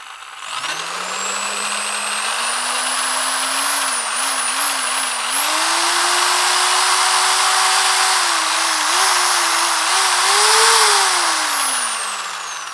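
A corded Bosch GSB 500 RE impact drill runs at no-load speed, its motor whine rising from low RPM to a loud, high steady tone with small wavering speed changes before easing slightly at the end.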